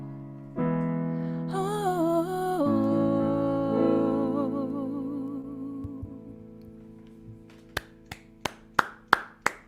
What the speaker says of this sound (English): And it's not just me clapping.